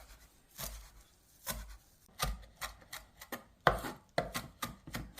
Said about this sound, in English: chop up about a tablespoon of the parsley